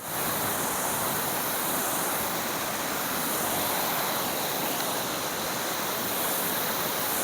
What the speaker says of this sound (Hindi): वो दिख रहा झरना है ना।